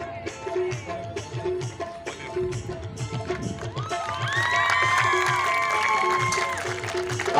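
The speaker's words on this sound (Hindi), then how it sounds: "आपकी तालियां इस शील्ड से बहुत बड़ी हैं" An audience at a shield presentation ceremony claps and cheers, building into sustained applause with shouts and whistles, while people talk over it at the start.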